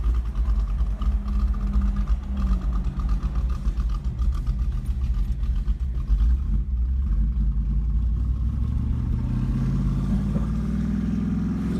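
A 1995 Chevy S-10 pickup's small-block V8 runs loud and close, its low rumble holding steady with slight rises in pitch and no talk over it.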